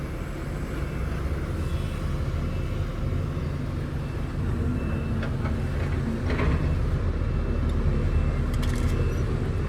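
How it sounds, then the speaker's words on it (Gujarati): A heavily loaded truck stuck in place with its wheels slipping, the engine holding a loud, steady, close rumble throughout with no voices. "સ્લીપ મારે આપણી ગાડી પણ નીકળતી જ નથી"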